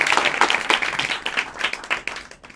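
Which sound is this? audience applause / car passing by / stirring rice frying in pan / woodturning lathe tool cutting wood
audience applause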